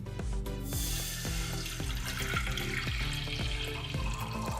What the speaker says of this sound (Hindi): 3 कप पानी शामिल करेंगे